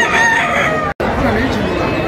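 A rooster crows at a livestock market in Hidalgo, Mexico, a loud sustained call filling the short moment with crowd chatter and market noise around it.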